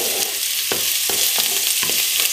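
Onions and tomato paste sautéing in a pan, a dense, loud continuous sizzle with four or five soft spatula strokes spaced through it, close up with no talking.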